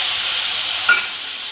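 A steady, soft sizzle of potatoes frying in hot oil, with one brief stir or clink partway through.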